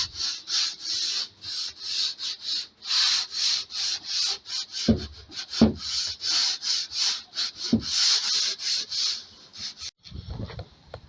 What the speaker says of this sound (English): sanding the top off there, any splinters, and away we go